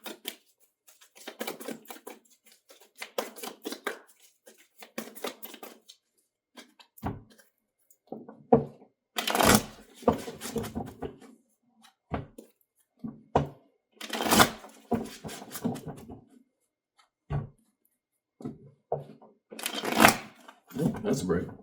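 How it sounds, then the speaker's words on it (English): Tarot cards are shuffled and riffled in repeated bursts of crisp flicking and slapping, close and clear, with pauses and soft handling noises between runs while a voice talks intermittently. "Could just be bad shuffling, but we'll see."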